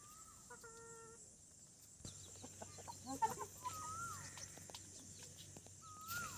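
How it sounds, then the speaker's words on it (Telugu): Outside a house, chickens cluck and a rooster calls among other birds, faint and somewhat distant, with scattered chirps and calls over a quiet background hum. "పక్షుల సౌండ్లు, కోళ్ళ సౌండ్లు, కాకులు ఇవన్నీ వినపడతాయి అన్నమాట."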